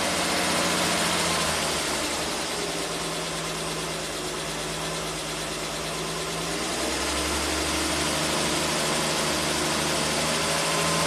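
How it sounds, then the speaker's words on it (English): A 1967 Triumph GT6 engine idles at lowered revs, a steady close mechanical drone with a low hum that dips slightly mid-way and then settles. "I'm going to drop the RPMs down"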